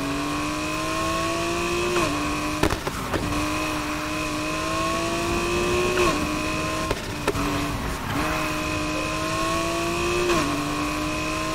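A Mazda Miata MX-5 revs hard in Need for Speed Heat, its engine tone climbing steadily then dropping sharply at several gear shifts, a continuous close buzzing drone with brief clunks between shifts.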